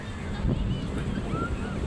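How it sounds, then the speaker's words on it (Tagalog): Wind rushes and buffets against the microphone in a steady low roar, with a faint voice briefly audible underneath. "Lamig ng hangin. Mahangin."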